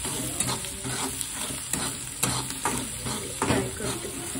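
Tomatoes frying with salt in a pan make a low, quiet sizzle, broken by repeated clinks and scrapes of a spoon stirring against the vessel at a steady pace.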